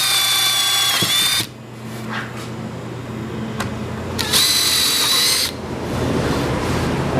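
An impact driver whirs in loud bursts, stopping and restarting with short clicks and taps between runs.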